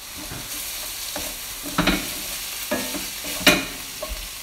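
Onions sizzling in a pan for Hong Kong style chicken curry, a steady fry hiss broken by several sharp scraping stirs of a utensil, close and without talk.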